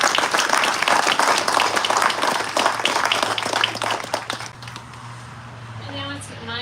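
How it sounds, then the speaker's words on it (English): Outdoor crowd applause at a ribbon-cutting celebration, loud, dense clapping for about four seconds. It then thins out into scattered claps, and a voice starts speaking as it fades. "So let's give them one more round of applause."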